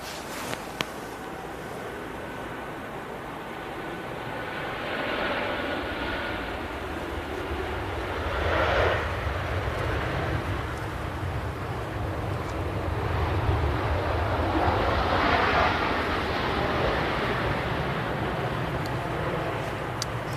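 A Ryanair airliner arrives at Manchester Airport in the early morning, its jet roar building and swelling in a broad, steady rumble that rises and falls over about twenty seconds, heard alone without talk.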